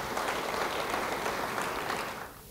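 A church congregation claps together in a steady, dense burst of applause that fills the hall, then fades out near the end.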